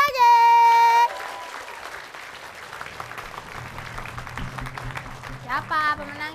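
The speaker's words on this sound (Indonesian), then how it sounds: "Tepuk tangan dulu sekali lagi." Audience applause at an Indonesian comedy show, a dense patter of clapping under a host's voice, with loud musical tones at the start and end.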